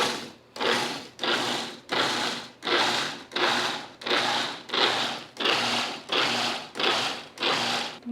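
A food processor pulses sweet potato and rinsed beans for veggie burgers in eleven evenly spaced, loud bursts of chopping whirr. Each burst is separated by a brief pause.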